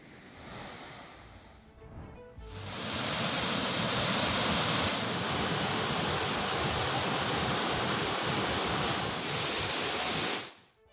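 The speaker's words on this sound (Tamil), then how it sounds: "மேற்கு தொடர்ச்சி மலையில் இடைவிடாமல் பெய்யும் கனமழையால் குற்றால அருவிகளில் வெள்ளப்பெருக்கு தொடர்கிறது" Courtallam waterfalls in the Western Ghats, in flood after days of heavy rain, give off a loud, steady, roaring rush of water. It starts after a quieter opening couple of seconds and holds unbroken before cutting off near the end.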